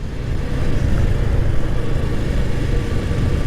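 A motorcycle carrying a bag on the back, ridden along Mawa road, with a steady loud engine drone and wind rush throughout and no break.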